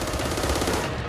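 Rapid automatic gunfire from a zombie shooter, Back 4 Blood, a dense continuous burst of shots lasting about a second, loud and close with no talking over it.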